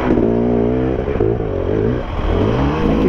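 An enduro motorbike engine revs loudly and close after jumping out of gear, a sustained raspy roar with quick dips and rises in pitch over a few seconds.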